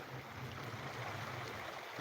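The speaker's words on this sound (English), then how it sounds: "The river noise" Outdoors on a sunny day, a river flows in a constant broadband rush with no speech over it.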